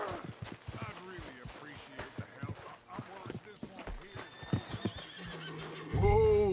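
In Red Dead Redemption 2, a horse whinnies and hooves clop under steady conversation between men, with a louder snort or neigh rising at the very end.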